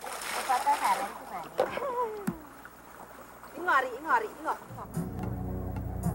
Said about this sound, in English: Washing and bathing are done along local streams.